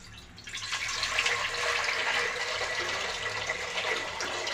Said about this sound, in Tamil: தண்ணி ஊற்றுறாங்க பாருங்கள்